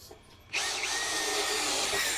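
DongCheng DCPL165 cordless impact driver with a worn, dulling bit boring into smoking wood, a loud steady whirring grind that starts abruptly and runs unbroken to the end, with no talk.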